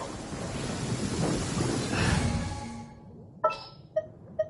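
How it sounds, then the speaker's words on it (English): A thunder rumble in the video game Genshin Impact: a broad, roaring crash that swells and then fades out, followed by a few short, bright chime-like game tones, with no voices. "thunder rumble."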